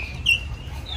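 Breeder chickens, recently wetted and carried in a multicab, give a single short cluck over a low rumbling background.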